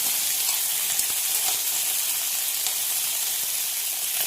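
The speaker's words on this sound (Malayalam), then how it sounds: "ഇതിലേക്ക് കഴുകി വെച്ച പൊള്ളമുളക് ചേർക്കാം. ഇതൊന്ന് ഈ നല്ലെണ്ണയിൽ വഴറ്റിയെടുക്കാം." Dried chillies fried in hot sesame oil give a steady, close sizzle and crackle that holds level throughout with no pauses, and no voices are heard.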